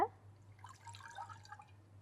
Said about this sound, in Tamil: கொஞ்சம் தண்ணி சேர்த்துக்கோங்க.